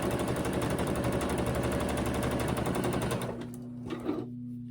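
A sewing machine stitches quilt pieces together with a rapid, loud mechanical chatter, then stops abruptly near the end and leaves a faint hum and a small clunk.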